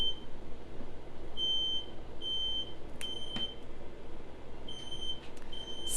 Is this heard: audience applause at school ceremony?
no